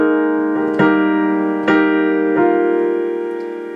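Piano plays a short passage: three sustained chords struck in slow succession, each ringing into the next, close and clear, then decaying at the end without any talking.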